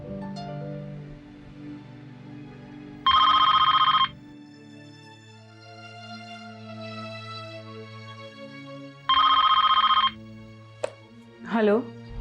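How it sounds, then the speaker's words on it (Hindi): A telephone rings out on an outgoing call in two loud, long bursts of electronic trilling a few seconds apart, set against a soft music bed in a TV drama, with a short voice at the end. "प्रिया को फोन लगाया मैंने"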